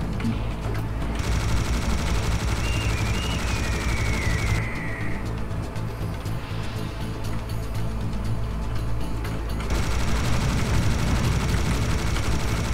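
Continuous gunfire from Serious Sam HD: The First Encounter, a dense, loud, unbroken barrage of rapid shots and game action filling the whole stretch, with no talking.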